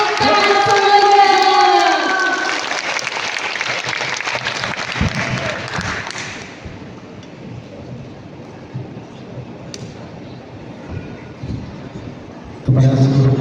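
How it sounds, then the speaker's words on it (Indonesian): Applause from a ceremonial crowd at the installation of a Kiwal MPC chapter chairman in Makassar, a dense burst of clapping after a voice calls out, fading by the midpoint to quieter background noise. "Tepuk tangan semuanya."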